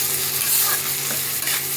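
Green and red chilies fry in a pan for chili pasta, giving a loud, close, continuous sizzle with stirring scrapes running through it and no voices.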